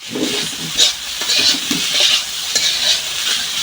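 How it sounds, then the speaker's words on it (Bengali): Cooked rice stir-frying in a wok on a winter morning, a loud close sizzle with repeated scraping and clinking strokes of the spatula against the pan, no talking. "ভাতগুলো দিয়ে দিচ্ছে কড়াইয়ের মধ্যে।"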